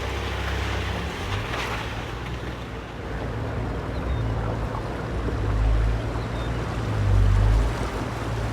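Water surges and washes in steady rushing swells, close by, mixed with a low motor hum and gusty outdoor noise.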